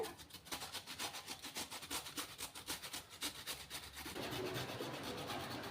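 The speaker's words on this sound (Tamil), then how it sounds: "இதை கேரட் துருவோம்ல இதில் துருவி எடுத்துக்கோங்க" Cassava root (tapioca) rubbed against a hand carrot grater, a steady run of rapid rasping strokes close up, fairly loud and regular, with no talking.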